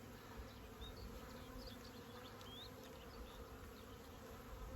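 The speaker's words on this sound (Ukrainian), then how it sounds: "Випускаємо бджіл." A soft, continuous buzzing of many honeybees being released from a hive hums quietly, with individual insects droning past now and then.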